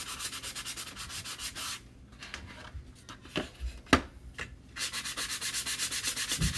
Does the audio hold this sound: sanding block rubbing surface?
yes